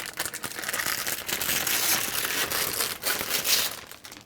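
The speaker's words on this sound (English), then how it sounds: "that oddly satisfying peeling of plastic" Protective plastic film peeled off a Cadillac XT5 lighted cargo sill plate, a loud continuous crinkling and tearing rustle close by, alone without talk.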